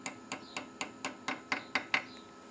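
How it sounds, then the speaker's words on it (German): Steel hammer tapping a thread tap extractor into a broken tap in a workshop: nine sharp metallic taps in a steady, evenly spaced rhythm, close and clear, with no talking. "Und dieser ist jetzt so gedreht, dass er nur mit dem Hammer hineingeht."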